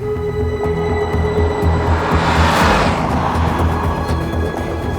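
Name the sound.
Alfa Romeo Montreal engine while driving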